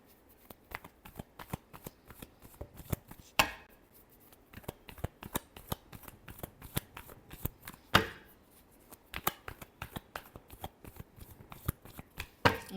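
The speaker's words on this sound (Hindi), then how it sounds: "Last shuffle." Tarot cards being shuffled by hand in a rapid crisp flutter of riffles and slaps, close and fairly loud, with brief pauses between bursts and no talking.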